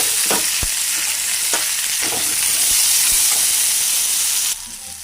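Cluster beans fry in hot oil with softened onion and garlic, a steady dense sizzle throughout with scattered scrapes and knocks of stirring, close and loud, dropping off sharply near the end.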